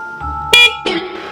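A motorcycle horn sounds one short, loud, buzzy honk, with a brief beep just before it and someone talking close by right after.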